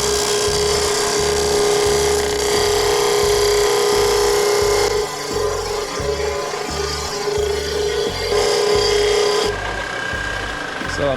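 A belt sander grinds a bevel into metal edges in preparation for welding, a loud, steady abrasive whine with a sustained tone and slight shifts in pressure across the whole stretch, close up.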